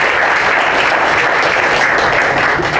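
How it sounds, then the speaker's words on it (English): A crowd at an activist film screening event claps in loud, continuous applause, dense and sustained across the whole stretch with no talk over it. "So round of applause for"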